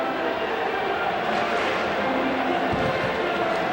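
Huge crowd at a Cubs baseball game in Chicago, a steady broad murmur and roar of fans beneath a play-by-play announcer talking over it.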